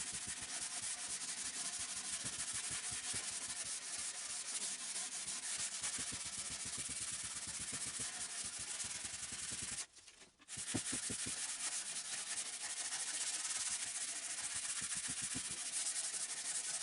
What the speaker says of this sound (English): give this a quick hand sanding just to get any rough edges and this sharp edge off